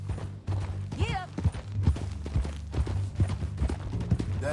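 Horse hooves clip-clop in Red Dead Redemption 2 as a steady, close walking rhythm, mixed with creaks and game ambience, while characters talk over it.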